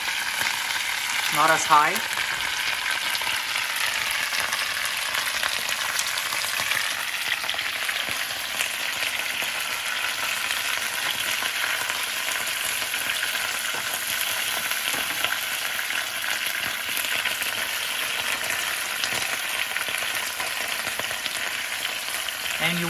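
Potatoes frying Russian style in a pan, a loud continuous sizzle and crackle holding steady throughout, with a brief stir near the start and a few quiet spoken words.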